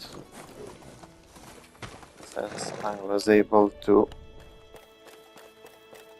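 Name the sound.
horse hooves running in video game Medieval Dynasty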